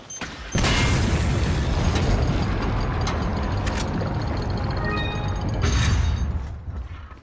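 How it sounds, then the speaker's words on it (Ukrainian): A long rumbling explosion in the video game Resident Evil 4 roars loudly for several seconds with crackling, grinding debris, then tails off near the end. "Воно довгувато вибухає, якщо чесно."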